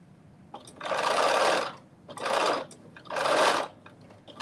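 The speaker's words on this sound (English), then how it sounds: "So I'm just sewing all the way around this circle slowly because I'm going so close to the edge." A sewing machine stitches slowly around the edge of a fabric circle for a reversible bonnet, running in three steady bursts with short pauses between, close and loud with no talking.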